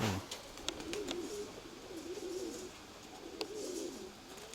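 Pigeons coo in soft, repeated low rolling calls outdoors, fairly close, over steady background ambience with a few faint clicks and rustles.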